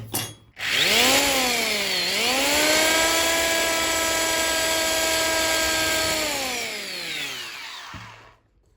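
A power drill spins up with a whine, dips briefly, then runs steadily at high pitch for several seconds before winding down; close and loud, no talk.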